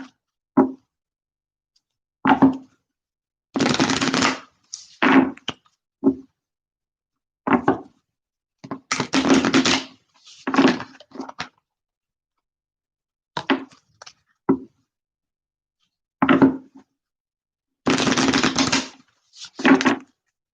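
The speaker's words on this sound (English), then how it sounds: "These cards are so thick, it's ridiculous. I can't even, I have to split them up just to shuffle them." Thick tarot cards are shuffled in split halves: several loud, crisp riffling bursts separated by quieter taps and short pauses, close by.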